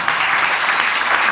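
An audience claps for Greek Americans, a dense, steady burst of applause from a crowd, loud and close, filling the whole moment without pause.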